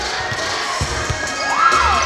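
A large crowd at an Ole Miss volleyball match in the National Invitational Volleyball Championship cheers and shouts together, with a few dull thumps underneath and the noise swelling toward the end.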